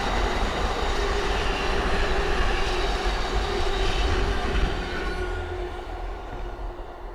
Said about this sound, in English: Then we have a Lumo 803 passing through from London King's Cross to Edinburgh Waverley